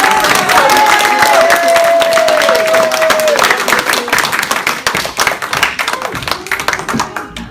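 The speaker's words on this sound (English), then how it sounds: "A huge round of applause for my lovely assistant" Applause and clapping from a theatre audience at a comedy magic show, a dense burst of hand claps that starts loud under a sustained tone and thins out toward the end.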